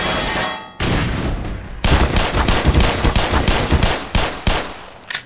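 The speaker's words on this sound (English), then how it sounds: "We got some automated turrets." Automated turrets in Black Mesa fire loud, rapid bursts of gunfire, with a brief pause and then sustained rattling volleys that trail off near the end.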